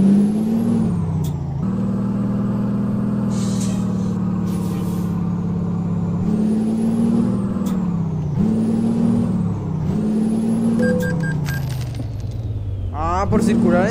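A Kenworth T600 hauling four trailers in American Truck Simulator, its air brakes hissing and releasing in several long bursts over a constant loud engine drone.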